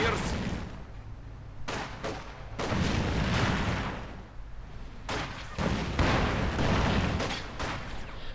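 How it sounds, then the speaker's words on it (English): Combat sounds from Company of Heroes 2, with a mine exploding among several heavy booms and bursts of gunfire that rise and fall over the battle, while a voice talks underneath. "mine went off in his face"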